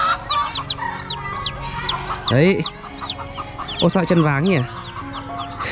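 Newly hatched wild junglefowl chicks cheep close by in a nest, giving many quick high-pitched peeps in irregular bursts, while someone talks over them.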